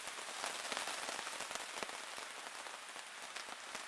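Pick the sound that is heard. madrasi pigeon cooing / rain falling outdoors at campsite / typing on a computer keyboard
rain falling outdoors at campsite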